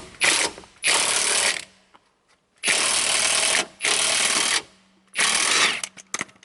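A Milwaukee 1/2 inch impact wrench drives a scissor jack in four loud bursts of rapid ratcheting hammering, each lasting about a second, with short silent gaps between them.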